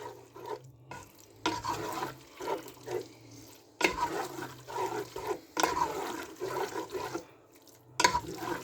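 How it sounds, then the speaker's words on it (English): Cream being stirred into a pasta and broccoli bake in a pan, giving repeated wet scraping and sloshing strokes that come in bursts with short pauses, close and moderately loud. "So the cream is in now, viewers. We're going to give that a good stir."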